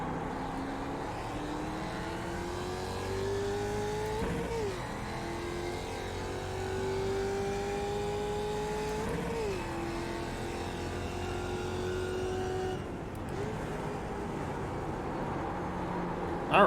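A Mustang race car in a racing video game drones through steady engine notes, pitch climbing and dropping with gear shifts several times, loud and continuous over faint background sound.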